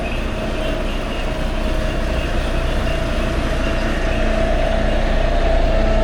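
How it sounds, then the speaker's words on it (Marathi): Bus depot ambience at Sangameshwar with buses idling and moving, a loud continuous engine drone and rumble that swells slightly, with a faint tonal hum over it. "बऱ्याचशा बसस्थानकामध्ये डेपोमध्ये गेलात ना की हा आवाज ओळखीचा असतो"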